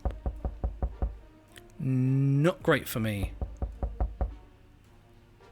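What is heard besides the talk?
knocking in 60 Seconds Reatomized video game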